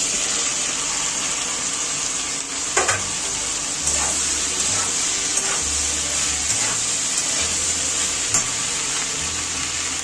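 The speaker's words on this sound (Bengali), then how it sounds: "ঢেঁড়সগুলো ভাজা করে নিচ্ছি।" Okra sizzles and fries steadily in a pan, with occasional scrapes and stirring clinks over the constant hiss; no speech.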